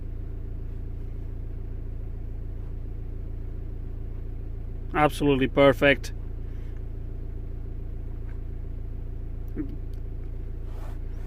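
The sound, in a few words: Zafira C 2.0 CDTI diesel engine revving, turbo whistling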